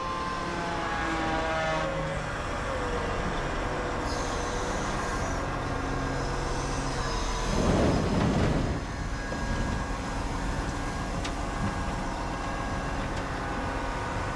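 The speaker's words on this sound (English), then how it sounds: "I bet you he probably could load this truck in 2 scoops with this big old loader" A big wheel loader with a massive bucket loads sand into a truck, a steady heavy engine drone running throughout with a louder rumbling surge of sand pouring in midway, no talking.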